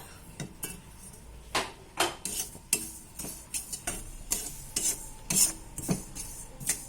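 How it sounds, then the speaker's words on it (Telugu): Sesame seeds are roasted in a pan for wheat biscuits, with irregular scraping and clinking strokes of a spatula against the pan, close and fairly quiet, without talk. "ఇది నువ్వులు వేపుతున్నానండి."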